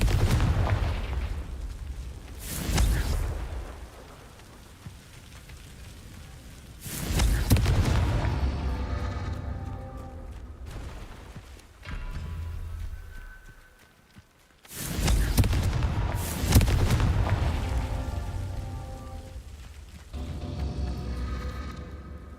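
Confringo explosive spell blasts in Hogwarts Legacy: several loud booming impacts at irregular intervals, each followed by a decaying rumble.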